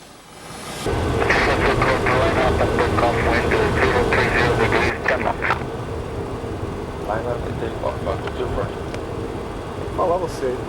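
A VASP Boeing 737 idles on the ground before departure, its engines giving a steady, loud whine and rumble that runs throughout, with a voice talking over it.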